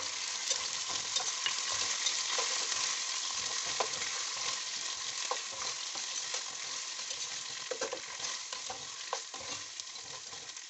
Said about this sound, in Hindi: और थोड़ा सा भूनेंगे।